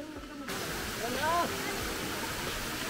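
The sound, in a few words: waterfall at Zambales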